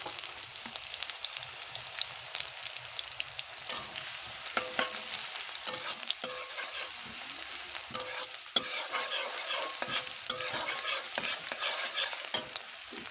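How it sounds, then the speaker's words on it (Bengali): Chopped onion frying in mustard oil for a prawn and pointed gourd dorma, a steady close sizzle with scattered crackles and scraping stir strokes throughout, no voices. "এখানে আমি সরিষার তেল নিয়েছি একশো গ্রাম তারপরে পেঁয়াজ কুচি দিয়ে দেবো"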